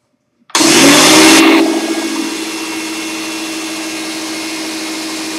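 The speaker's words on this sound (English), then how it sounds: "I'm going to turn on my old one so you guys can see." An old air compressor switches on loudly, with a sharp burst at startup before settling into a steady, loud mechanical drone that runs on to the end.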